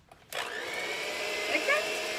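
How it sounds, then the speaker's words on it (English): An electric hand mixer whirs into steady beating of brownie batter, starting abruptly and holding a constant close drone with slight pitch shifts as it works through the mix. "if you're going to use a mixer, well, you mix it"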